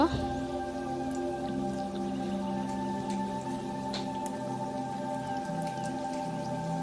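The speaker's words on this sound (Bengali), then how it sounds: "এগুলোকে আমি সবগুলোকে একটা একটা করে এখন তেলের মধ্যে দিয়ে দিব" Sweet potato malpua batter balls sizzle and crackle steadily in hot oil, a dense continuous frying hiss with scattered small pops, close and fairly loud throughout.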